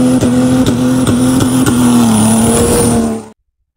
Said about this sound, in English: Here we have an original, very rare fire truck engine. It's a Waukesha model 6SRKR.